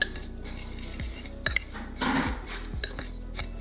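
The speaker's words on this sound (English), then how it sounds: "I'm just gonna grab a fork and mix this well together." A fork mixes curing salt and brown sugar in a bowl for homemade bacon, giving a string of sharp metal clinks and scrapes against the dish, close and fairly quiet, with no talking.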